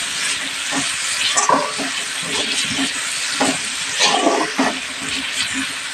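Onions frying in turmeric-tinged oil give a loud, steady sizzle and crackle, with occasional bursts of spattering throughout.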